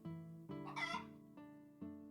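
A rooster crows in the video game Trails in the Sky the 3rd: a single bright, drawn-out cock-a-doodle-doo rising in pitch, with a clucking lilt, heard alone over a steady tonal game music bed.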